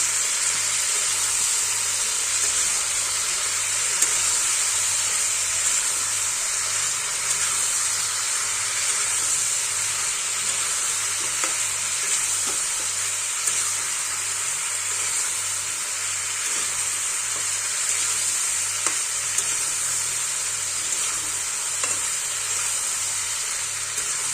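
Fish curry ingredients with turmeric and salt fry in a pan, giving a steady, continuous sizzle and hiss that holds even throughout, close and alone with no voices.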